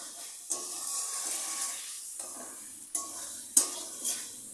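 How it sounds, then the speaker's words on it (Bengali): Paneer pieces stirred into masala frying over raised heat, a soft sizzle broken by a few distinct scrapes of the spoon against the pan, with no talking. "দিয়ে মশলাতে পনিরগুলো ভালো করে একটু নেড়ে চেড়ে নিতে হবে"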